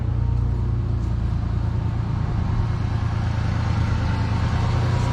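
A Ford F-150 V6 on its stock exhaust idles steadily with an even, low hum and constant level throughout, heard up close with no talking over it.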